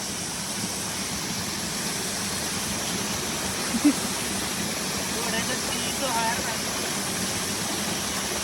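A mountain stream runs beside the Khumai Dada trekking trail in Nepal with a constant, even rushing wash of water close by. A voice is briefly heard faintly over it.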